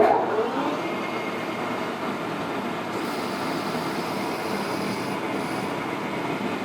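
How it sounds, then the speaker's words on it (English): Lathe cutting threads on a CZ 457 rifle receiver, a steady close machining drone and whir running continuously with no talk. "We'll kick it on, touch off, and just cut to our major diameter."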